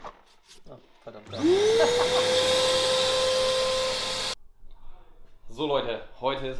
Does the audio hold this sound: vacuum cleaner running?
yes